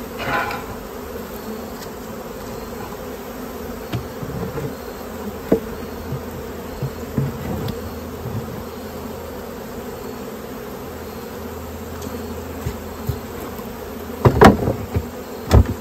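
Honeybees buzz steadily around an opened swarm trap holding ants, hive beetles and burr comb, a dense continuous drone with occasional sharp knocks and a louder clatter near the end; no voices.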